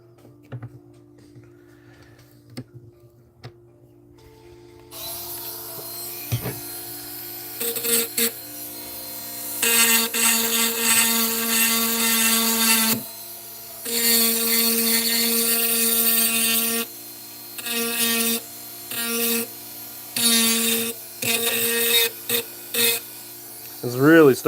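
A Dremel rotary tool whines at a high steady pitch while carving at a workbench, running in several bursts of varying length with pauses between them, after a quiet start with faint talk.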